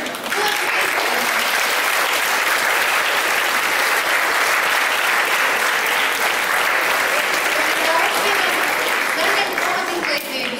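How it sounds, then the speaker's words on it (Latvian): An audience at a school graduation ceremony claps steadily and loudly, a dense unbroken wash of many hands lasting the whole stretch without pause or fade. "Vecāki, palīdzam ar aplausiem, lai mūsu jaunieši dodas lidojumā."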